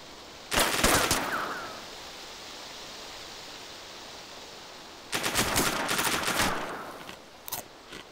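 Semi-automatic gun firing in the DayZ video game, two bursts of rapid shots, the first about a second long and the second lasting nearly two seconds, followed by a lone short shot, with quiet game ambience between.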